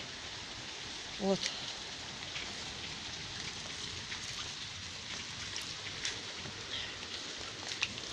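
Heavy downpour with hail and hurricane-force wind in Tomsk, a continuous dense hiss of rain on surfaces with scattered sharper ticks, while a voice speaks briefly.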